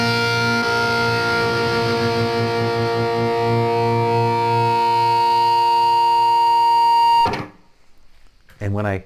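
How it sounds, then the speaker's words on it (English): An electric guitar intro from a song, played through an extra overdrive distortion pedal, gives a loud, thick sustained chord that rings for seven seconds, then cuts off, followed by a short distorted stab. "I kick on an extra overdrive on that at the right place"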